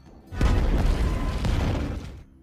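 A deep, rumbling boom of an explosion erupts from oil drums in a film scene and rolls on for a couple of seconds before fading away.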